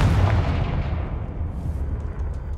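A single heavy blast from the Confringo spell in a Harry Potter video game, a loud, close boom with a long rumbling decay that fades over a couple of seconds.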